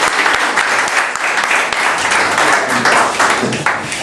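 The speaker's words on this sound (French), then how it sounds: "Il faut applaudir à Jésus." Loud, dense applause from a church congregation at a testimony service fills the space evenly, a steady wash of many hands clapping together with no break.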